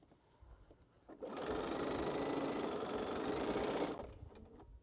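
Sewing machine stitching quilt rows together, a steady loud mechanical whir that starts after a moment of quiet, runs continuously for a few seconds, then stops.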